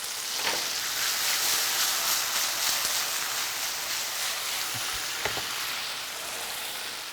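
A sweet and sour agrodolce dressing of sugar, vinegar and salt sizzles steadily over peppers in a hot pan, a loud, close, continuous hiss with a few soft knocks and no talking.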